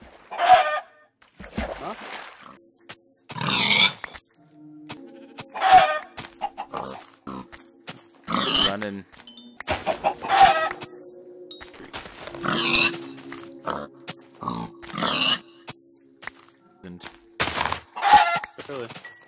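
Minecraft chickens clucking in a video game, with repeated clucking bursts at regular intervals, some pig grunts, and someone speaking briefly.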